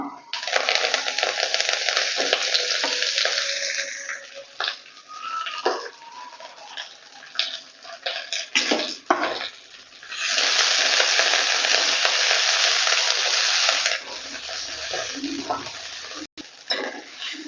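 Sorrel leaves being sautéed in a pan, a strong hissing fry in long bursts that drop away and return, broken by scrapes and clinks of stirring.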